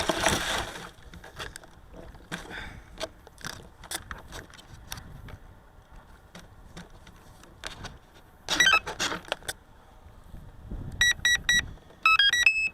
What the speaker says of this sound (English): Beep beep beep beep beep beep.